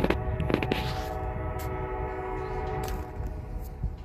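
An O-gauge Lima model railway locomotive approaches with a sustained horn tone over a low mechanical rumble, and a few sharp clicks from the track break through.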